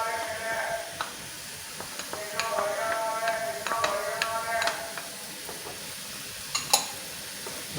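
Yogurt is stirred quickly into a pan of matar chaat curry, giving a soft wet scraping and sizzle with occasional light clinks of the spoon against the pan, close and steady.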